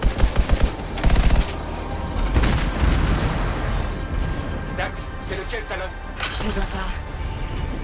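Rapid bursts of gunfire from the video game Anthem crackle in quick volleys near the start, followed by booms and game effects, with someone talking over the action.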